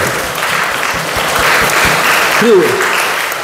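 Church congregation clapping together at a Sunday service, steady dense applause from many hands, with a brief voice rising over it near the end.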